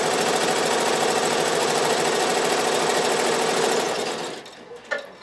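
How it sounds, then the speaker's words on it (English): Avancé embroidery sewing machine stitching a design, a loud, steady rapid needle clatter running continuously for about four seconds before winding down and stopping, followed by a brief click. "hit start, and it brings us right to where we left off, and we finish sewing the design"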